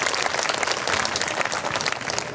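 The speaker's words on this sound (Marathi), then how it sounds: "तर आपल्याला जर भाषण आवडलं असेल तर एकदा जोरदार टाळ्या वाजवा." Loud, sustained applause from an audience at a Dhammachakra Anupravartan Day gathering in Purna, dense clapping filling the whole stretch without a break.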